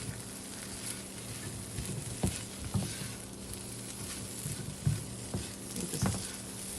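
Tofu and shredded rotisserie chicken sizzling in a hot pan as a stir fry, a soft constant crackle with occasional louder pops and scraping stir strokes, moderately quiet and steady.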